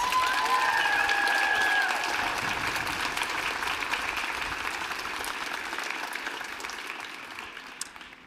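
At a school commencement ceremony, an audience gives a big round of applause for prize winners, dense clapping that starts loud, gradually thins and fades, with a few isolated claps near the end.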